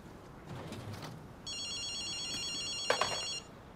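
A telephone rings in the video game GhostWire: Tokyo, a bright electronic warbling ring lasting about two seconds over faint ambient noise, preceded by soft footsteps and a short clatter near its end.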